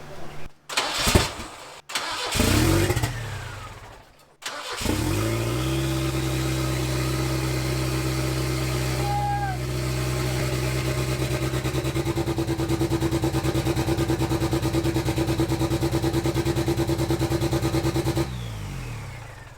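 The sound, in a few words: Ford Ranger engine starting after revival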